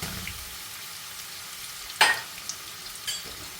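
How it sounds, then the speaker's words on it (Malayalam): Ginger and garlic frying in hot oil in a pan, a soft steady sizzle throughout with a sharper crackle and stir at one point and a few fainter pops, no voices. "ഇഞ്ചി വെളുത്തുള്ളി, ജിഞ്ചർ ഗാർലിക് അങ്ങനെ മുരിഞ്ഞിട്ട് പച്ചമണം"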